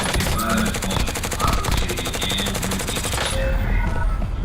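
A video game firefight rattles with continuous loud automatic gunfire, dense rapid bursts layered over each other throughout, with no break in the shooting.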